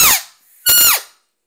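An open reed elk call blown with too much lip pressure, two short squealing, squeaky blasts, the second pitching downward, loud and close with a brief gap between.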